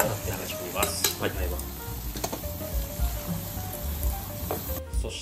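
Two beaten eggs poured into plenty of melted butter in a frying pan sizzle and crackle close by, with light clinks of utensils and a voice talking over the frying.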